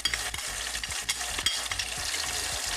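Garlic, onion and tomato sautéing in a pan, a close continuous sizzle broken by quick stirring scrapes and knocks of the utensil, no talk.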